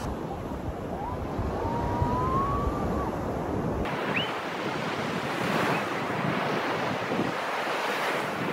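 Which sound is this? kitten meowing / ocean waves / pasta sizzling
ocean waves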